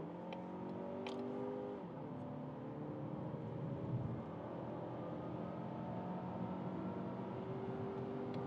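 A 2025 Mazda 3 with a 2.5-liter engine accelerating from 80 km/h, a steady, sustained engine drone with rising harmonic tones heard from inside the cabin, continuous and moderately loud, with no talking.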